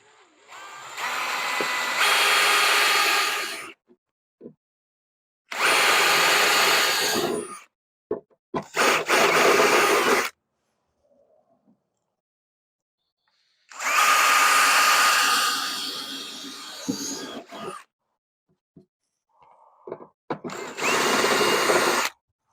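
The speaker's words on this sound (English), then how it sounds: "And I'm just going to drill some holes right there." Power drill whirring in several bursts of a few seconds each, loud and close, with short pauses between, drilling holes during an LS engine swap on a 1989 Chevy K1500.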